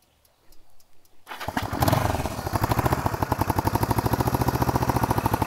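A cold 1973 Honda CB450 dual overhead cam engine sputters to life after a quiet moment, then settles into a steady, rapid idle with an even pulsing beat.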